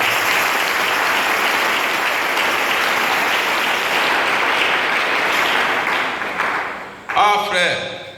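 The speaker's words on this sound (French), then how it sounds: "Acclamons le Seigneur Jésus." A church congregation applauds and acclaims Jesus in sustained, loud, dense clapping that fades after several seconds into cheering voices near the end.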